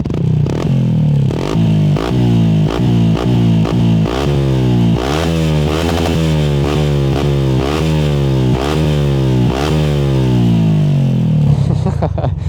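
A loud 2018 Yamaha YZF 125 motorcycle engine, hot, revs hard and repeatedly bounces off the rev limiter, producing a rapid stuttering roar up close.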